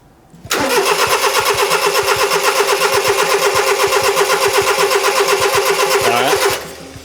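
A 1992 Honda micro bus engine cranks over steadily for about six seconds without catching, a loud, rapid rhythmic starter churn close by that stops abruptly.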